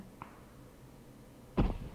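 Enemy gunfire in the battle-royale video game PUBG: a faint, distant report early on, then one louder, sharp burst near the end against a quiet background, with no talking.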